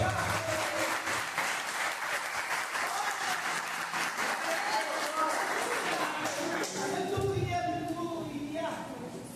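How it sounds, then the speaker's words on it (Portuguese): A congregation claps together during a worship service in a Portuguese-speaking church, dense continuous applause with voices and singing mixed in, fading toward the end. "Aplauda o Senhor."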